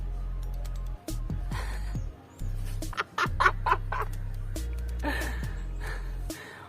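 A person on a phone call imitates a rooster's crow, the voice coming through in broken, strained bursts over a steady line hum.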